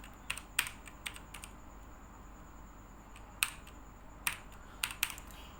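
Keystrokes on a computer keyboard come as sparse clicks, some single and some in quick pairs, separated by pauses in a quiet room, typed while entering a command.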